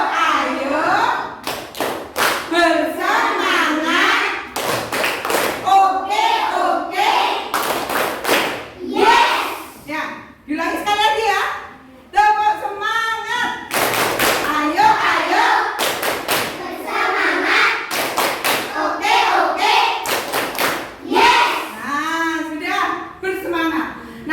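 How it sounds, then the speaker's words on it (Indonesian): Children in a classroom clap a rhythmic spirit-clap pattern, sharp claps in repeated bursts mixed with loud chanting and talking voices throughout. "Ya, tepuk semangat."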